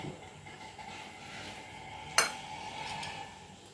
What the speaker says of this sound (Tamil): இப்போது நான்ஸ்டிக் தவா கேஸில் வச்சுருக்கேன் ஆன் பண்ணுறேன்